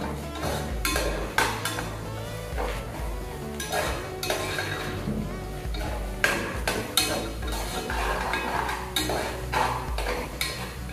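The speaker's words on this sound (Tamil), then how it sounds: "இஞ்சி பூண்டோட அந்த ராஸ் ஸ்மெல் இருக்கும் இல்லைங்களா, அது நல்லா போகிற வரைக்கும் நம்ம எண்ணெயில நல்லா வதக்கணும்." Ginger garlic paste sautéing in hot oil in a pan, a constant sizzle with frequent spoon scrapes, metallic clinks and pot clatter close by, without voices.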